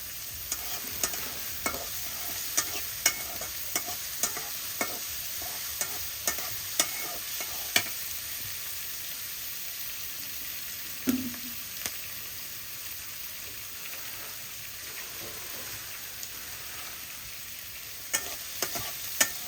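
Shrimp fry with onion and green chili in soybean oil in a pan. A continuous low sizzle runs throughout, with scattered clicks and scrapes from stirring.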